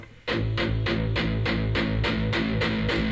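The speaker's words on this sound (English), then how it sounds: "The palm muting should be this tight, clipped type rhythm guitar sound like this" Tight, clipped electric guitar chugs repeat in a steady rhythm, each note muted and percussive, loud and close with no voice.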